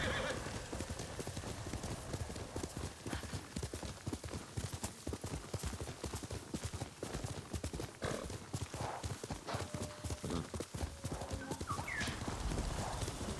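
Horse hooves clip-clop steadily at a trot in the video game Ghost of Tsushima, with a whinny near the end, all over ambient game sound.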